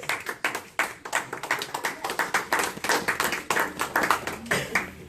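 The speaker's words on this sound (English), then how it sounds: "give her a round of applause, please" Seminar audience applause, with distinct, fairly close handclaps in an uneven rhythm that suggests a modest crowd, continuing for a few seconds with no talking.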